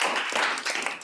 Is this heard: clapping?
yes